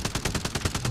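Rapid automatic gunfire in the video game Warzone Resurgence, a dense, even burst of about ten shots in a second, loud and close with no talk.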